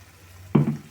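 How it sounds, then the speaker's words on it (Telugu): Water is poured into a hot pan of ivy gourd and onion curry, and a single sudden loud hissing splash bursts up midway after a quiet start. "దీంట్లో ఇలా వాటర్ మొత్తం పోసుకుందాం."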